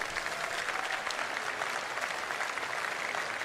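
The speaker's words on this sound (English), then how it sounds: "People are clapping." A live audience at the CitizenCon convention breaks into steady, dense applause, a continuous wash of many hands clapping at even loudness with no voices rising above it.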